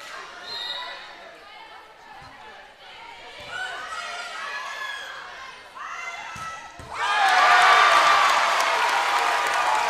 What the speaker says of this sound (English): Crowd chanting for Kelly, a great student section that we've got over on the far side of the court